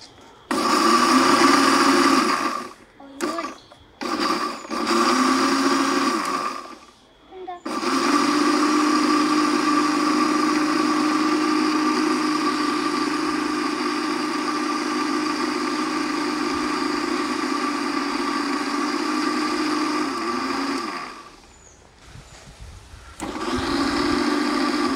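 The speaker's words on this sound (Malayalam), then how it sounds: "ഓക്കെ, അപ്പൊ നമ്മള് മിക്സി അടിച്ചിട്ട് നമുക്ക് അടിക്കാം." A mixer grinder blends a milkshake at home, a loud steady motor whine that runs unbroken for about fourteen seconds after a few short starting bursts, then stops and starts again briefly.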